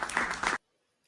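A brief burst of audience applause at a talk show, dense clapping for about half a second before cutting to silence.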